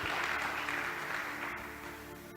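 A church congregation applauds after a call to praise God during a Portuguese-language sermon, a thick, continuous patter of many hands that slowly softens toward the end.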